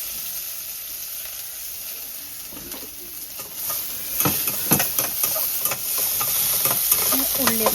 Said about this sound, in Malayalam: കടുക് പൊട്ടിച്ച് ഉള്ളി മൂപ്പിച്ചെടുക്കണം